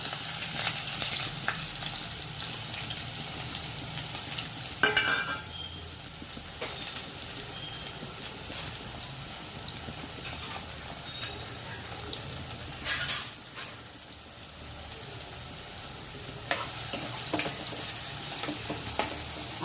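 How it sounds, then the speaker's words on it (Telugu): Onions sizzle in hot oil with cumin seeds in a pan as a curry base is started, a steady close frying hiss broken by occasional stirring scrapes and clatters. "ఆనియన్స్ వేసుకుంటున్నాం జీలకర్ర వేసుకున్నాక ఆనియన్స్ వేసుకోవాలి"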